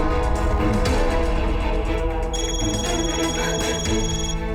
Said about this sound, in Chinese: 天朗给我打电话了